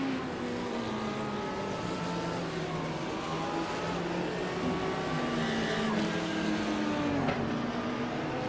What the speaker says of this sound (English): Terry Crouch goes by at the start-finish line here, retakes the top spot.